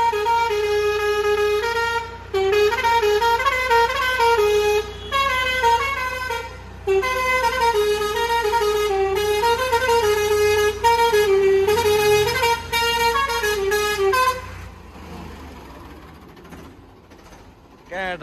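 A tractor's musical horn plays a repeating melodic tune in loud, sustained tonal phrases for about fourteen seconds, then cuts off, leaving engine rumble and a faint voice.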